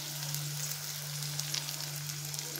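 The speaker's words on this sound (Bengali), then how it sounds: "আলু আর পেঁয়াজ একটু নাড়তে থাকি" Chopped potato and onion frying in a pan while being stirred, a soft, even sizzle over a low steady hum, close and fairly quiet.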